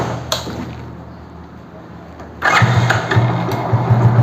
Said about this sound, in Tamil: நான் வண்டியை ஸ்டார்ட் பண்ணிட்டு செக் பண்ணி காட்டுறேன் பாருங்கள்.